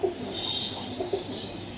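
A young Punjabi Malbai pigeon coos softly at close range, low throaty coos over a faint background hum with a thin high tone near the start.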